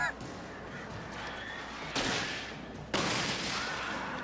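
Birds in Alan Wake swooping in an attack, heard as a steady noisy wash of flapping and cawing with two sharp bursts of gunfire or flash blasts cutting through partway.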